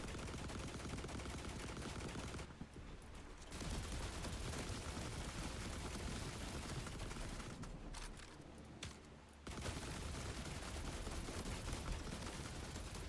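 Dense bursts of video game gunfire roar continuously, broken by two brief lulls, loud and close with no talking over them.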